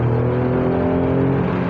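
A Toyota Aygo X city car's engine drones steadily at close range as it is driven hard around a roundabout, with a constant low hum and no voices.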